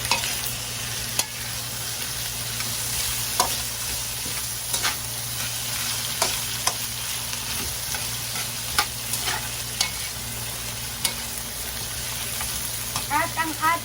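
Hotdog slices and potatoes fry for chicken afritada, a steady close sizzle in a pan punctuated by periodic utensil taps and stirring clicks, with no talking.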